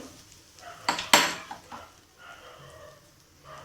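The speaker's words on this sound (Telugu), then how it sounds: "ఇలా చక్కగా మన ఊరగాయ అంతా కలిసేలాగా ఒకసారి కలుపుకోవాలి" A spoon clatters and scrapes against a dish while Indian gooseberry pickle is mixed, with two sharp clinks close together followed by softer stirring.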